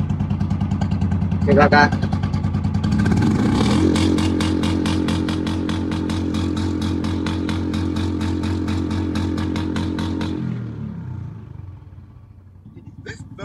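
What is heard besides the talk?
Royal Enfield Bullet motorcycle exhaust revving at full throttle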